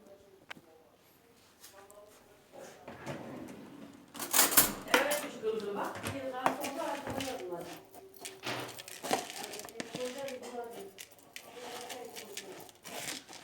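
A spoon clinks and scrapes against a bowl in irregular bursts while someone talks nearby, the mixing close and moderately loud.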